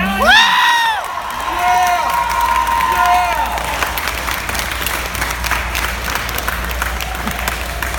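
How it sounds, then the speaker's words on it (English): An audience at the BrickFair 2018 LEGO fan convention claps and cheers during a Q&A, with loud sustained applause and whoops close by and a few voices shouting over it. "I'm gonna stand here at Brickfair with cheers and applause"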